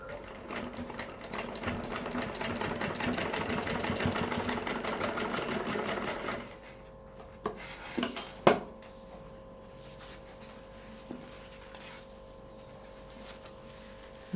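Sewing machine running a continuous stretch of stitching on a zip for a homemade tiffin case, loud and steady for about six seconds, then stopping, followed by a few scattered knocks and handling clicks.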